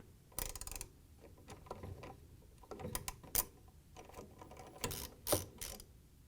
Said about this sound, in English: Once you have the big wrench on the motor pulley to hold it while you're taking the front nut off, we can grab our socket.